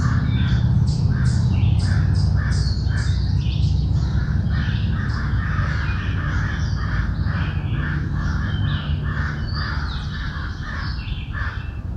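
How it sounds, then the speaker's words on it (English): Crows caw repeatedly outdoors behind the listener, their harsh calls overlapping in a loose rhythm over a constant low rumble of background noise. "Good practice with the crows behind me to try not to fixate on them."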